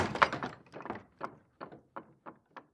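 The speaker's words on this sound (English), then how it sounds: "the door opened" A door opens with a string of wooden knocks and thunks, loud at first and then growing fainter and more spaced out, heard alone in a quiet room.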